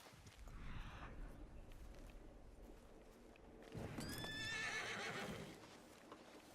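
A horse in the video game Red Dead Redemption 2 lets out a loud whinny, with soft hoof clip-clops and a faint low rumble before it, near and without talk.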